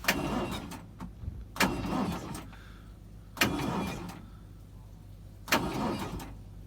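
A car engine fails on a cold start, cranking in four separate bursts, each a rough, strained churn that dies away, with quiet pauses between attempts and nothing catching.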